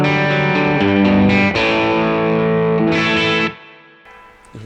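A loud, crunchy electric guitar through an Origin Effects RevivalDRIVE overdrive pedal in valve mode plays a few chords and notes that ring and sustain before decaying, followed by a quieter pick.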